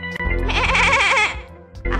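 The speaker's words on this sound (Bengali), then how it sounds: "ওই তো শুনলুম ছাগলের ডাক" A cartoon goat gives a loud, wavering bleat that rises and falls for about a second, alone and close, with a short sharp tone before and after.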